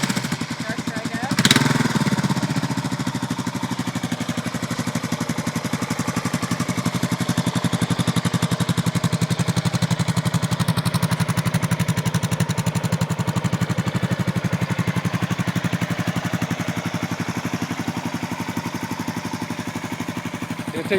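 A 1998 Suzuki Savage 650 motorcycle started up and running, a steady close engine drone with a brief sharp knock at the start, continuing evenly to the end.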